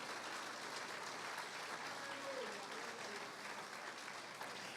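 A church congregation applauds during a Spanish-language sermon, sustained steady clapping from a large group filling the room, faint and even throughout.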